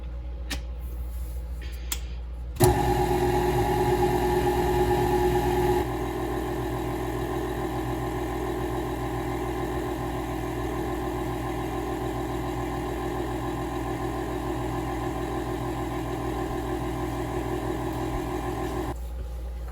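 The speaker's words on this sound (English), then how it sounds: "Now, I've got my paddle attachment on here. I'm going to beat this until it is smooth." A stand mixer with a paddle attachment beats dough, a steady loud motor hum with a constant mechanical drone that starts abruptly and runs unbroken.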